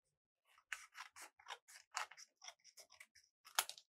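Scissors snipping through paper card for a sun craft, a quick series of about a dozen crisp close cuts in steady rhythm, alone without talk.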